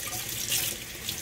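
Water runs from a kitchen tap over a netted dishcloth being rinsed, a steady close hiss of splashing flow lasting just over a second.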